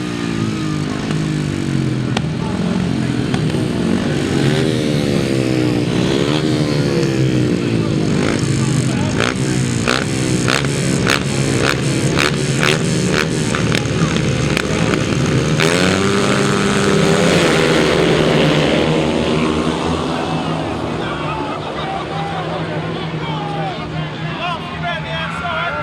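Grasstrack motorcycles race at an international floodlit meeting, engines roaring loudly and continuously and rising and falling as they pass, with crowd babble and a commentator talking over the noise.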